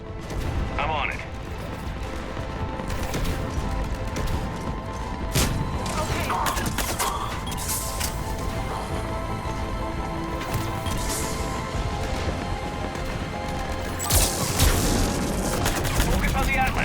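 Cannons fire in a battle in the video game Mass Effect 3 on Omega, heavy booms and blasts among continuous gunfire and explosions, dense and loud, with characters talking over the combat.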